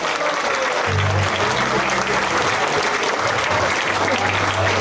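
Steady, dense applause from a large audience fills the whole stretch, loud and continuous, with a low murmur of voices beneath the clapping.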